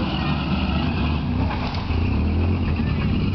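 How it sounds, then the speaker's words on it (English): A 1976 Chevy pickup with a newly fitted one-chamber Flowmaster dual exhaust revs up close, giving a loud, deep, steady rumble with no talking. "Just got done installing a one chamber Flowmaster dual exhaust at Custom Muffers"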